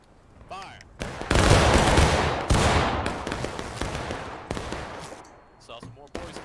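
Company volley of muskets firing together in the Civil War game War of Rights: a loud, dense crash of near-simultaneous shots rolling into scattered trailing reports and echoes, with brief voices around it.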